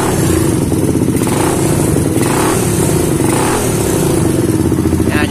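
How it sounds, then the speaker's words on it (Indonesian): Motorcycle engine fitted with a tuned PWK carburetor, running close and loud with light throttle blips and a mechanical clatter, continuous for a few seconds with no talking. "Saya gas sedikit aja ya"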